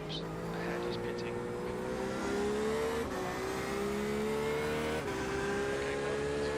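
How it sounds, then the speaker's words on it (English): A race car engine in iRacing at Circuit de Barcelona-Catalunya during a 24-hour race, droning steadily with rising pitch through gears and two brief shift breaks, loud and continuous with no talking. "there's a faster car approaching."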